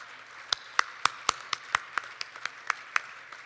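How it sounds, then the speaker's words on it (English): Scattered hand claps from a banquet audience, a dozen or so distinct sharp claps spaced irregularly across a few seconds, fairly close and sparse rather than a full ovation. "can we give them all a round of applause?"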